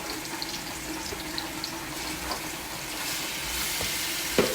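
Turkey necks browning in oil in a pot, a continuous close sizzle and crackle with scattered pops, steady throughout.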